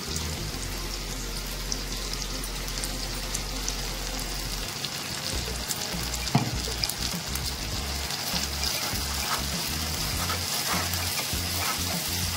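A paste of ground onion and tomato sautés in a pan with a steady, rain-like sizzle and occasional stirring scrapes, close and continuous, over a low hum that fades early on.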